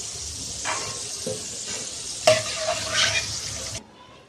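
Grated potato shreds sizzle steadily in hot oil while frying for a crisp fasting potato chivda, with a few stirring scrapes and a brief louder burst partway through before the frying noise cuts off near the end.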